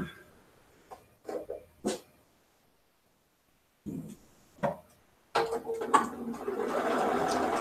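A domestic sewing machine stitching a Dear Jane quilt block runs in a steady whirring burst near the end, after a few short quiet sounds and pauses.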